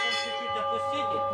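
Church bells ring out at a church bell-ringing festival, with sustained metallic tones layered and overlapping as new strikes sound over the lingering ring, loud and close, with no talking.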